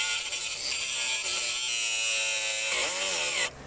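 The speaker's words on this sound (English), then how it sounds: "this lock apparently has a special coating, making it angle grinder proof" An angle grinder cuts into the special coating of a motorcycle lock with a loud, constant high whine that holds steady for several seconds and then stops abruptly.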